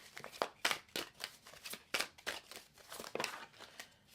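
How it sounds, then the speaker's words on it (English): Tarot cards being shuffled by hand, a quick series of close, crisp riffling and slapping bursts in an irregular rhythm, with no talking. "All right, so we're going to go ahead and just shuffle."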